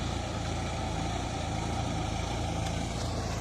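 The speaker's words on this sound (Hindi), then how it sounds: "देखियौ पूरा बाद में एकदम ट्रैक्टर सब चलि रहल अछि" Tractors run in a rice-planting field, a continuous low engine rumble that holds steady and fairly close without pause.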